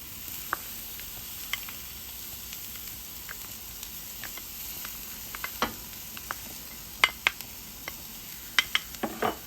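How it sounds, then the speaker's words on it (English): Corn tossed into a pan of browning vegetables for a vegan green chile stew, giving a steady low sizzle with scattered light clinks and scrapes of a utensil stirring; no one speaks. "Now we're going to add the corn in here."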